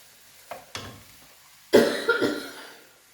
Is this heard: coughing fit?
yes